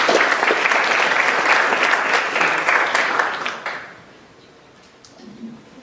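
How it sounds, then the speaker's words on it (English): An audience at Penn State applauds a climate speaker with dense, loud clapping for almost four seconds, which then fades quickly into quiet room noise. "So let's give a round of applause for Bill McKibben."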